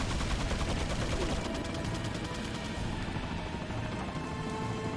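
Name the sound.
gunfire from turrets in a video game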